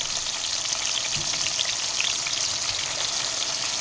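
Breaded chicken cutlets fry vigorously in a pan of hot oil, a loud, steady crackling hiss like heavy rain that holds without pause.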